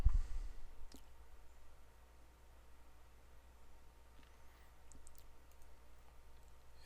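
Computer mouse clicks sound as a few sharp, faint taps, one near the start and a small cluster later, against quiet room hiss.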